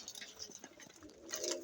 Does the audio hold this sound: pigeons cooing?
yes